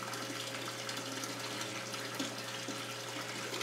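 Water runs steadily through an aquarium hose during a tank water change, a constant close hiss and trickle over a low steady hum, uninterrupted and without talking.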